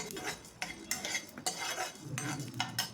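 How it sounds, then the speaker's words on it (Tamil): Cumin and coriander seeds dry roasting in a pan over a medium flame, quiet rattling and spoon scraping in short bursts with light clinks, no voices. "வச்சுட்டு லைட்டாக வறுத்து விட்டுருங்க"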